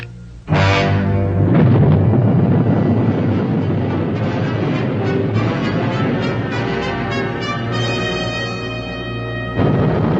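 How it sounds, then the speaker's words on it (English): Cloud seeding rockets fire just ahead of a hurricane, producing a loud, sustained roaring rush that starts abruptly, holds steady for several seconds, then surges again with a fresh burst near the end. "The controller decides to fire cloud seeding rockets just ahead of the hurricane"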